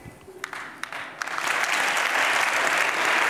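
Applause from a studio audience at a televised comedy show, starting as scattered claps and swelling after about a second into a steady, dense round of clapping that holds to the end.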